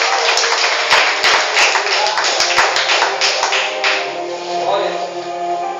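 Church congregation clapping hands in praise during a Portuguese-language worship service, a steady stream of rhythmic claps blended with voices and music, close and loud throughout.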